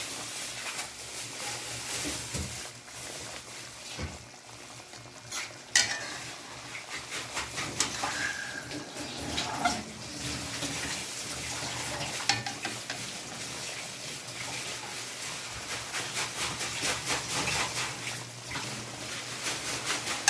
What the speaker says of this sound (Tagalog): haluin paminsan-minsan para hindi masunog